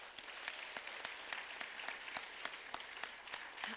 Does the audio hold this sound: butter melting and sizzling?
no